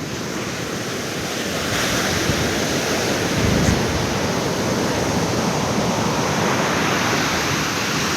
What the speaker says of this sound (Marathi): 11:15 झालेत आणि भरती बघा केवढी आहे. त्या लाटा इथपर्यंत येत आहेत लाटा